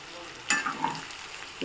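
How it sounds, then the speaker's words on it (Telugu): Bitter gourd slices fry in a pan and are stirred, giving a soft steady sizzle with a brief scrape or two of stirring, close and moderate in level. "మధ్య మధ్యలో ఇట్లా కలుపుకుంటూ తిప్పుకుంటూ ఉండాలండి వేగిని ఇంకా కొంచెం వేగాలి"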